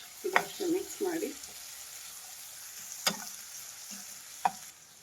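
Vegetables and capsicum for vegetable Maggi masala noodles are stirred in a pan, with a soft steady sizzle beneath a few scraping clinks of the spoon near the start and sharp taps later.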